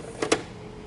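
A metal plate slides back into a Ricoh Ri1000 DTG garment printer, making two quick, faint scraping clicks close by in an otherwise quiet moment.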